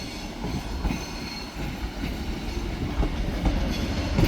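A Class 156 Northern diesel unit on a terminating service rolls through Manchester Piccadilly, a loud close rumble with rail clatter and faint wheel squeal building toward the end.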